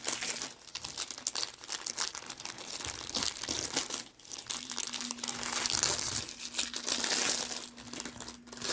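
Paper is torn and pulled away from quilt stitching, with close, continuous crinkling and ripping rustles of varying strength and no talk.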